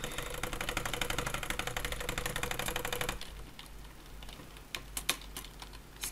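Rapid computer mouse clicking during a Minecraft Sky Wars match: a dense, fast rattling burst for about three seconds, then quieter scattered clicks and a few sharper taps nearby.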